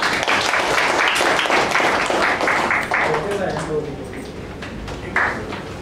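Applause at a Toastmasters table topics session: a burst of clapping that gradually thins and fades, with voices talking over the tail end.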